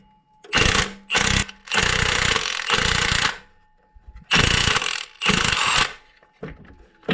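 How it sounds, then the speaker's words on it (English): Impact-driven puller working a stuck part off during an LSA supercharged engine install, loud close bursts of rapid mechanical hammering in several separate runs with short pauses between. "I have my puller on here. I'll show you how it goes when I take it off."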